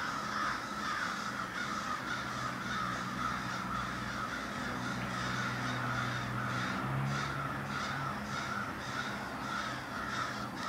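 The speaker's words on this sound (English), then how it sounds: "I don't know if you can hear this, but I fucking hate birds." Birds call outside in the morning, with repeated crow caws layered over a constant chorus of chirping and background hum, steady and moderately distant.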